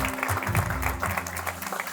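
Congregation clapping at a church celebration service, a steady dense patter of hands over a low hum of music, moderately loud throughout.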